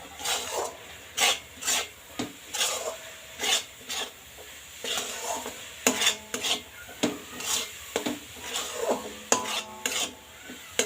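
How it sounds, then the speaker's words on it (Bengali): A motichur laddu mixture being stirred in a pan on low heat gives rhythmic scraping strokes, roughly one per second, with a faint sizzle underneath, close and moderately loud. "এইভাবে একটু নাড়াচাড়া করে নেওয়া লাগবে।"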